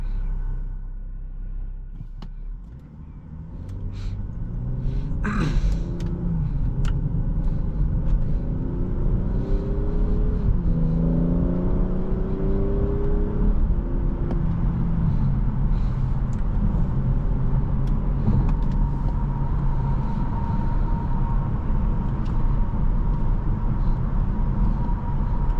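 A 2017 BMW X5 sDrive35i cruising steadily, its engine and road rumble low and continuous from inside the cabin, with gear-shift rises in pitch and no talk over it.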